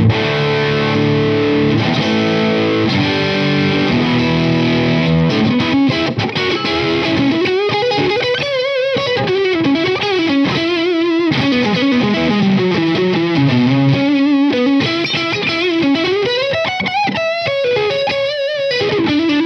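A budget electric guitar with a fully floating Floyd Rose tremolo plays a distorted tone, chugging chords giving way to a sustained melodic lead with dives and bends, loud and alone.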